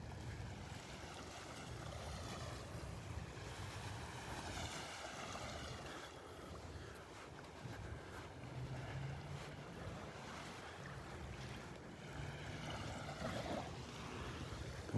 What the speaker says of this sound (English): There's a little breeze blowing now and then.